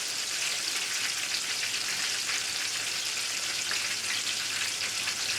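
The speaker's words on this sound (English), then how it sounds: "So it's frying well, deep fry" Oil sizzles steadily and loudly in a close, continuous hiss as mushroom-filled vegan rice paper wraps deep fry, with no talking.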